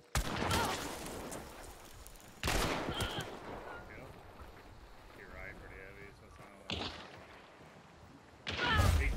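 Gunfire from a pistol in a PC shooter video game, heard as a few loud bursts of shots spaced through the stretch, with a voice talking between them.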